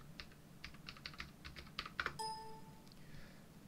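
Quick, light keystrokes tap on a computer keyboard in a short burst of about a dozen clicks, followed by a bright chime. Everything is faint and close, with no voices.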